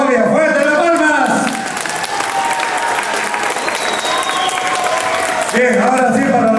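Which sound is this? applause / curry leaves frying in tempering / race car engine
applause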